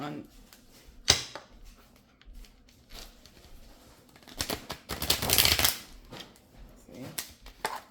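Tarot cards riffle and snap in quick bursts, with a longer flurry of shuffling midway, close up and fairly quiet.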